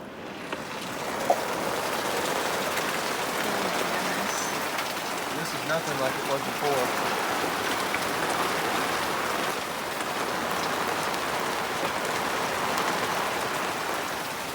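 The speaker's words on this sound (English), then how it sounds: "Let's see the rain." Steady heavy rain patters densely on surfaces throughout, while a person speaks briefly over the downpour.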